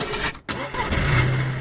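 A car engine cranks and catches in the DayZ survival game on the Chernarus map, a short starter burst followed by a steady mid-pitched engine note, loud and close with no talk over it.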